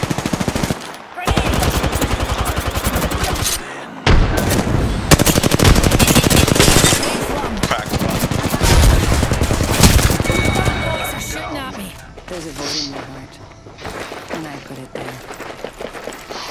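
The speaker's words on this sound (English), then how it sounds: "They're shooting at me." Enemy automatic gunfire in Apex Legends rattles in loud, rapid bursts, heard alongside excited player talk and game sounds, tapering off toward the end.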